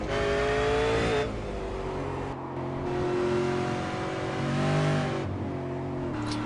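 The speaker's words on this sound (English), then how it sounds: "it's so interesting to hear how early he short shifts too" A V8 race car engine in a racing sim at Twin Ring Motegi, revving hard and short shifting early through the gears, steady loud roar with rising pitch sweeps and brief dips at each upshift.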